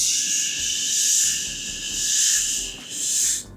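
A singer demonstrates a poor breathing exercise with an uneven, uncontrolled hissing exhale that surges and fades in irregular bursts, close and breathy, with no voices.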